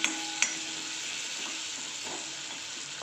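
Masala of turmeric, black masala and coriander sautéing in a pan, a constant hiss of frying with a couple of sharp utensil clicks at the start and end, close and steady, no talking.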